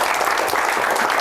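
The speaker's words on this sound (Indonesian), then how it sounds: "Tepuk tangan dulu dong untuk semuanya." A brief burst of dense applause from a crowd, loud and steady throughout with no pauses.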